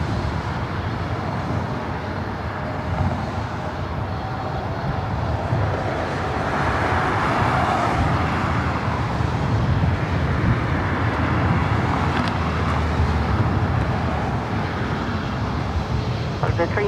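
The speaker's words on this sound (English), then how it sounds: "Next arrival is Southwest Airlines flight 5907. It's a 737-700 coming in from Phoenix" A Southwest Airlines Boeing 737-700 arriving at LAX from Phoenix makes a steady, broad jet-engine roar that swells slightly midway, with voices faintly underneath.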